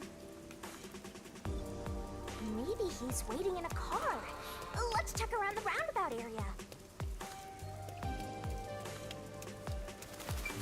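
Rain falls steadily throughout a scene in Master Detective Archives: Rain Code on Switch, a constant soft patter under game music and spoken dialogue.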